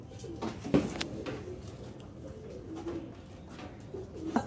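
Pigeons cooing in a loft with newly hatched chicks, soft repeated coos rising and falling at a moderate distance in a quiet setting, with a few faint knocks.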